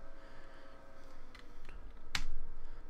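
Keys tapped on a computer keyboard running Windows 3.11: a few sparse clicks, the last sharp and close, over a low, steady room hum with no talk.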